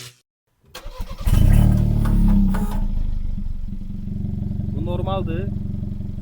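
A Kia Proceed GT engine fires up with a loud surge and revs, then settles into a steady, deep running drone, while someone speaks briefly over it.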